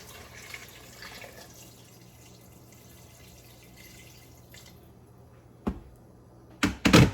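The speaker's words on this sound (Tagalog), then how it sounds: "Mainit na tubig na lalagay ko." Hot water is poured into a pan of cooking shrimp, a low watery trickle over background hiss followed by a few sharp splashing bursts near the end.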